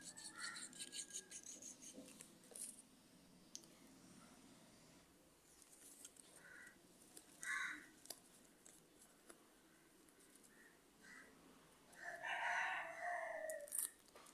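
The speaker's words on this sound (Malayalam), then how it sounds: "ഇവിടെ ഒരു കോഴിയും പിന്നെ തൊട്ടടുത്തൊരു മരമുണ്ട്, ആ മരത്തിൽ നിറയെ കാക്കകളും ഉണ്ട്. അപ്പോൾ അതിൻ്റെയൊക്കെ സൗണ്ടുകൾ ഉണ്ടാവും." A rooster crows and crows caw from a tree nearby, faint and in scattered bursts over a quiet room, with a louder cluster of calls near the end.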